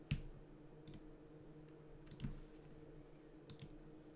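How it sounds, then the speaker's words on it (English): Sparse clicks from a noisy mechanical keyboard, three or four faint separate keystrokes a second or so apart, close but quiet against low room noise, with no speech. "That's some noisy keyboard."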